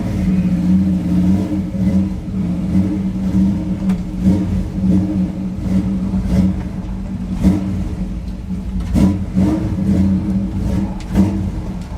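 Car engine running steadily after a cold start, a loud continuous rumbling idle with occasional small rises in revs, close to the microphone and without talk.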